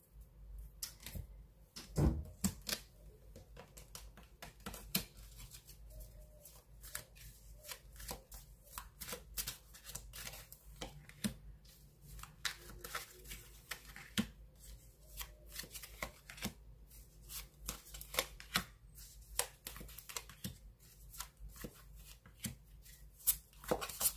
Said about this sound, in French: le temps que je pose les cartes